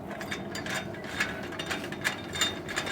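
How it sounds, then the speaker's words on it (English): Old screws are backed out with a ratcheting tool, a quick, steady, close run of clicking pawl ticks throughout, fairly faint. "So we're just going to get all these old screws out."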